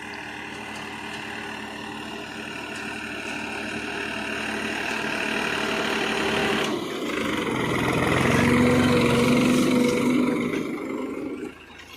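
A New Holland 3600-2 tractor engine idles steadily and loudly in a field during wheat sowing with a seed drill, a constant low rumble that swells slightly near the end before dropping.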